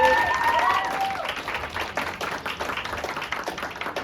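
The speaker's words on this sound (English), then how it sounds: "Can we just give a round of applause to the BYOB?" Audience applause at a spoken word poetry event, steady dense clapping throughout, fairly loud and close, with a brief voice at the start.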